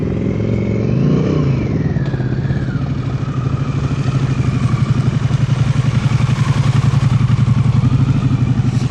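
Motorcycle engine running steadily at close range during a private group riding lesson, a continuous loud drone with slight revving near the start and a rhythmic chugging that persists throughout.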